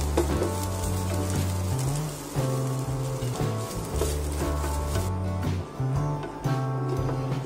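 Coconut pieces roasting on a hot tawa for a mushroom curry, with a steady sizzling crackle and scraping stirs running throughout, close and fairly loud.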